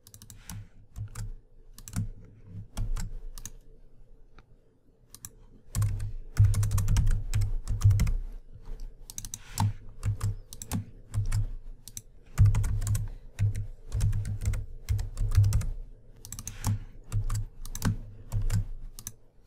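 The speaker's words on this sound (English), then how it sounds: "And I'll just type out a couple of links over here." Typing on a computer keyboard, close and clear, with quick irregular bursts of keystroke clicks broken by short pauses.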